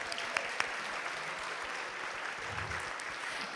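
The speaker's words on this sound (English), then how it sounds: "Yes, we can give applause for that." Audience applause at the 30th annual Mississauga Arts Awards gala: a steady, dense wash of clapping from a crowd in a hall, fairly even in level throughout.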